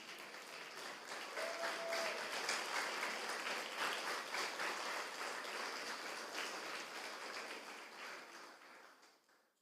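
An audience at a church sermon claps steadily in a sustained burst of applause that gradually fades toward the end, with no speech over it.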